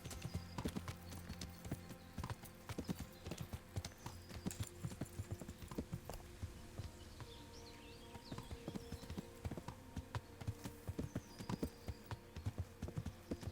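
A horse in the medieval video game Kingdom Come Deliverance clip-clops steadily on hard ground, its hoofbeats close and continuous over a low ambient bed.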